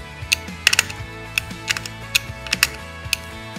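Bolts are snugged up during a Cadillac electronic ignition conversion, a series of sharp metallic ratchet clicks in irregular bursts, close and distinct against a quiet background.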